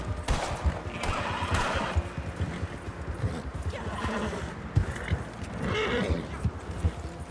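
A horse gallops with clip-clopping hooves and neighs in Red Dead Redemption 2, mixed with dense game noise and scattered bursts of gunfire-like clatter.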